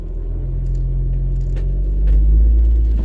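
A car creeps slowly over a rock on its passenger-side tire, producing a loud, deep engine rumble that builds steadily toward the end, with faint crunches from the tires on rock.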